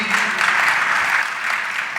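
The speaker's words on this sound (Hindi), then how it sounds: "एक बार जोरदार ताली बजा दीजिए" Audience applause at a Jain religious question-and-answer gathering with Muni Pramansagar, a steady, dense clapping that continues evenly at close range throughout, with some voice-like texture mixed in.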